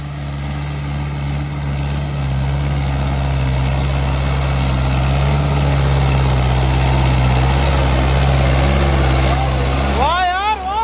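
Mahindra 585 DI XP Plus tractor engine running steadily on a sand dune, a loud continuous low diesel drone with constant tone, and a voice briefly cutting in at the very end.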